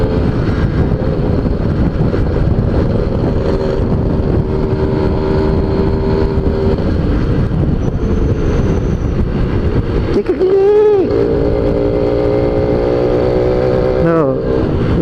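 A Suzuki GS Tornado motorcycle engine drones loudly and steadily, then revs up in a rising, wavering pitch near the end.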